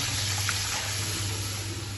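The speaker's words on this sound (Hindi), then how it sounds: "इस मौके के ऊपर हम इसमें पानी ऐड कर देंगे।" Water is poured steadily into a cooking pot of rice for pea pulao, a continuous close splashing gush with no talking.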